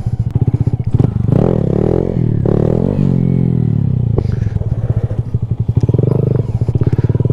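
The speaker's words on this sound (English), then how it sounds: "Little burnout." Honda Grom mini motorcycle doing a burnout, its small engine revving hard and steadily at close range for several seconds, with a brief dip and then a renewed high-rev roar.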